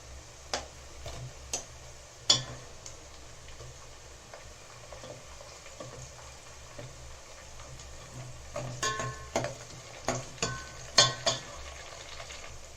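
Onions and green chilies sizzling in a pan for a home-style vegetable biryani, a quiet steady fry broken by scattered clicks and scrapes as a spoon stirs against the pan, growing busier toward the end.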